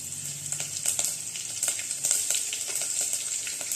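Mustard seeds, cumin and garlic sizzle in hot oil, a continuous close crackling hiss with scattered sharp pops and spatters.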